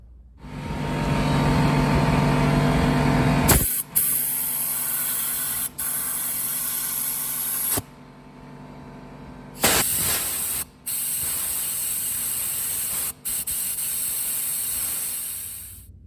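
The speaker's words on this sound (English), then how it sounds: "just blow through all the holes on the carburetor and all the jets" Compressed air blasts through the holes and jets of a Yamaha Raptor 660 carburetor in loud, close, hissing bursts, a long continuous spray followed by several shorter blasts with brief cutoffs between them.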